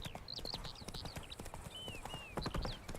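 A spooked horse in The Witcher 3 video game, with steady clip-clopping hooves and faint whinny-like cries, under bright chirping tones throughout.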